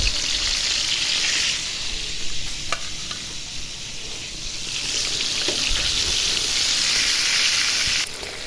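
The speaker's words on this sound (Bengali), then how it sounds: "তো এই যে দেখুন ভাজতেছি।" Sea fish frying in hot oil, a steady close-up sizzle and hiss that holds evenly throughout with brief clinks from a utensil, no talking.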